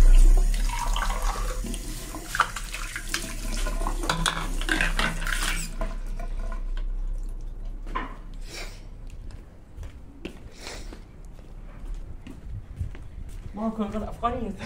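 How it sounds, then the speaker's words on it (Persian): Water runs steadily from a tap, a loud continuous rush that stops about halfway through, leaving quieter room noise and scattered sounds behind. "آب"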